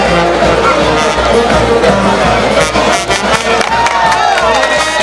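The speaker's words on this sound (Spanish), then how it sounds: "Los aplausos" A loud, steady roar from a crowd at a bullfight during a traditional fiesta in Santa Rosa de Yarayacu, Picoy, with cheering and applause blending into continuous close noise for several seconds.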